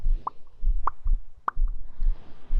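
Three crisp mouth pops, made close to a binaural ASMR microphone, spaced evenly about half a second apart with soft breathy noise between them.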